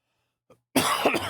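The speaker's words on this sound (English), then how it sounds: "This cough can go away." A single sharp cough from a nearby person during a tabletop game session, preceded by a faint brief throat sound and then a dense burst of hacking that runs to the end.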